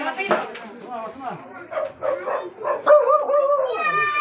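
Close yips and whimpering barks from a dog, high and tonal, rising into a drawn-out howl-like whine.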